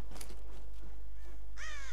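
Ravens caw in the 2013 Tomb Raider video game, a couple of harsh, rising calls near the end, the loudest one bursting out after a stretch of faint ambient noise.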